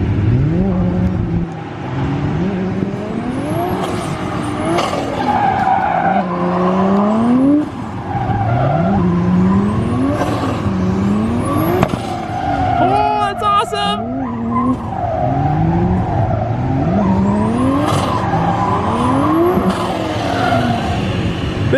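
A 600-horsepower 1JZ-powered Datsun 260 drifts at a show, its engine revving in repeated rising and falling surges amid long, loud tire squeals. The sound carries on steadily for about twenty seconds.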